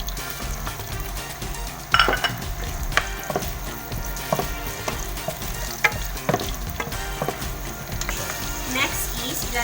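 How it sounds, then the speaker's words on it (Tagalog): Garlic fries in a pan with a loud, continuous sizzle, broken by frequent scrapes and clacks of a utensil against the pan. "Lagay natin yung ating garlic."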